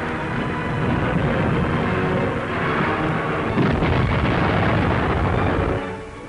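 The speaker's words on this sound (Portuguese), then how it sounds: "A munição que se encontra no barco provoca uma explosão e o cargueiro faz-se em pedaços." Ammunition aboard a World War II cargo ship explodes in a loud, sustained roaring blast with heavy rumbling and crackling debris noise that continues for several seconds before easing off.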